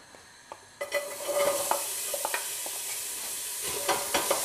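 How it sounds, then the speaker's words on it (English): Onions dropped into warm olive oil in a pan for bean chilli, setting off a sharp burst of close sizzling that keeps crackling steadily with scattered pops and stirring scrapes, no talking. "now once the oil is nice and warm, we can start adding the onions"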